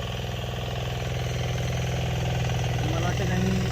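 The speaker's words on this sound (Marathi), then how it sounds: "आधुनिक कोकण ट्रॅक्टरमधून आता सध्या नांगरणी चालू आहे" Steady chugging of a modern Kokan tractor engine ploughing a farm field, a continuous low rhythmic drone that stays close and even throughout.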